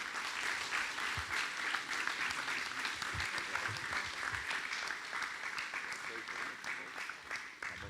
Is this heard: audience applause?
yes